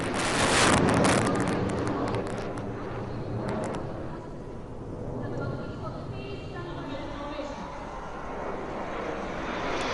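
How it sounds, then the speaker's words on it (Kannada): Indian Air Force military helicopters and aircraft pass over a Republic Day parade rehearsal, a loud engine roar that swells early, then settles into a sustained rumble mixed with gusting wind. "ಭಾರತೀಯ ವಾಯುಪಡೆಯ ವಿವಿಧ ಸಮರ ಹೆಲಿಕಾಪ್ಟರ್ಗಳು ಮತ್ತು ವಿಮಾನಗಳು ತಮ್ಮ ಸಾಮರ್ಥ್ಯವನ್ನು ಪ್ರದರ್ಶಿಸಿದವು"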